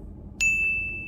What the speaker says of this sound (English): Make sure you hit that bell for post notification